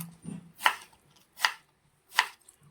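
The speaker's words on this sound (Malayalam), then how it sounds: "ചെറിയ നമ്മുടെ ഈ കപ്പലണ്ടിയുടെ വലുപ്പത്തിലുള്ള ക്യൂബായിട്ട് നമ്മളിത് അരിഞ്ഞെടുക്കുകയാണ്" A knife chops vegetables into small cubes for a peanut salad, striking a cutting board three times in a slow, even rhythm, close and crisp, with a faint low rustle before the first cut.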